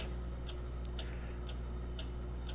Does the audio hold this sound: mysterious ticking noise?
yes